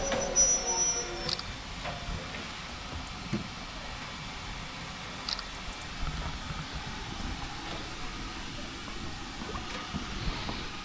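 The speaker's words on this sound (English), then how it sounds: "There we go, that you see steam train and Corfe Castle together." Steam train on the Swanage Railway near Corfe Castle, heard from a distance as a faint rumble of rolling carriages with occasional wheel squeals.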